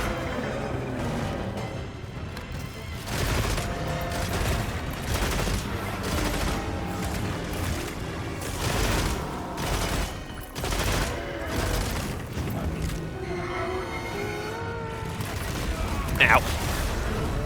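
Adhesive ammo shots fired at a monster in Monster Hunter Wilds, a series of loud, irregular gun blasts and impacts over a busy battle din, with brief voice sounds near the end.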